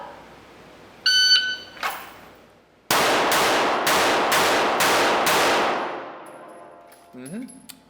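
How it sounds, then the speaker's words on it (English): Rapid handgun shots in a shooting drill: five sharp, loud reports in quick even succession after a brief electronic tone and a clank, each with a ringing decay, then a faint beep at the end. "draw and fire 2 on each of the bottom squares"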